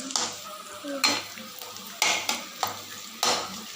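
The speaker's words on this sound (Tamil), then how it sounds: "எண்ணெய் கடுகெல்லாம் ஊற்றி வெங்காயத்தை தாளிச்சு வச்சு பாருங்கள். வெங்காயத்தை கொஞ்சம் வதக்கி வச்சுங்க" Onions sautéing in hot oil with mustard seeds in a pan, with a steady sizzle broken by about five sharp stirring scrapes of a spoon against the pot, close and fairly loud, with no talking.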